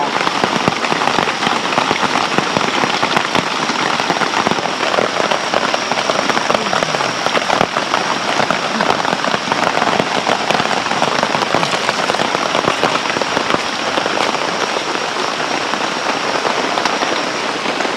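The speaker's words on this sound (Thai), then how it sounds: "ฝนตกหนัก" Heavy rain pouring down at night in the forest, a loud, steady patter of drops on surfaces close by that keeps up without a break, with no talking.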